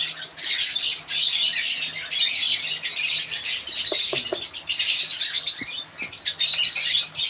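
Lovebirds in a breeding tree keep up dense, high, continuous chirping and twittering from several birds, close by and steady throughout, with no talking.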